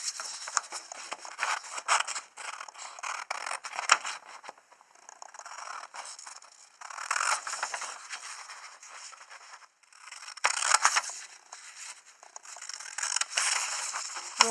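Scissors snip and slide through a paper sewing pattern for Barbie doll underwear in several bursts, with crisp scraping and crinkling sounds close by and quiet pauses between cuts.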